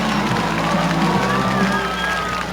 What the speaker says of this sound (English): And he gets a nice round of applause from his teammates on the bench